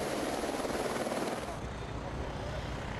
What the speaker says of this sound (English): 21 of the smaller Eurocopters fly in the city.